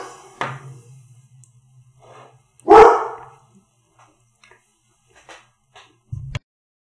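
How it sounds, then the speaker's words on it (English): A dog barks in a few separated bursts, one short bark early, a loud close bark in the middle and a final brief one near the end, with quiet gaps between. "And my dog is barking."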